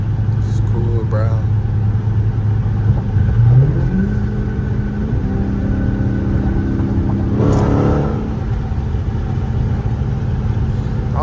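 A car cruising on a highway at night, a steady close engine hum and road rumble with gear-change rises in pitch, heard under continuous talking inside the cabin.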